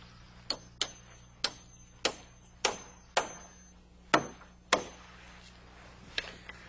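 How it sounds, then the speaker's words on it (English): Hammer blows nailing a wooden sway brace onto roof framing at the ridge, about ten sharp, ringing knocks in an uneven series, close and loud with no talking. "To do that, we nail in a permanent sway brace."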